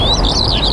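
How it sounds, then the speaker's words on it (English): A Eurasian skylark sings a high, warbling, continuous song with rapid rising and falling trills, fairly close and clear over a low background rumble. "the model is almost certain that it was this Eurasian skylark, kiuru in Finnish, that was singing"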